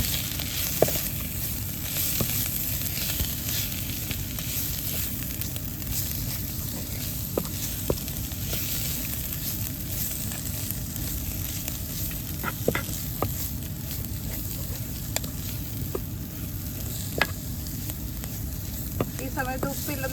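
Chilli and coriander powder fry in a pan for a fish chutney while being stirred, giving a continuous close sizzle with occasional soft scrapes and ticks of the spoon against the pan.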